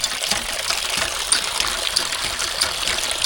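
Water gushing steadily from a newly installed hand pump in a Hyderabad neighbourhood, a close, continuous splashing stream with no talk over it.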